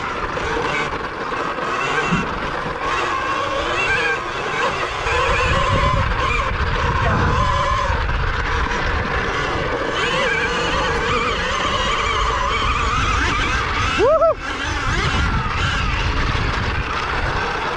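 Electric KTM Freeride E-XC dirt bike being ridden, a steady whining motor hum with wind and off-road rumble throughout, and a brief rising whine near the end as the clutch is pulled.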